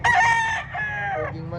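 A rooster crows loudly and close by at a chicken market expo at Carbon Public Market in Cebu City, one long strained call that rises, holds and trails off into a lower, rougher tail.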